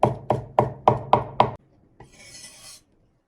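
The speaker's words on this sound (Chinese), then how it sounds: "首先呢，我们把葱给它切成葱花" A knife chops scallions on a board in six quick, evenly spaced strokes, close and crisp, followed by a brief scrape as the pieces are gathered.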